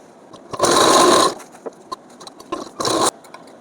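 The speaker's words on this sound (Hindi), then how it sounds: "अब हम यहाँ पर सिलाई लगाएंगे।" Domestic sewing machine stitching the finishing edge seam on a kurti collar, running in two short bursts, a longer one then a brief one, with quiet handling sounds between.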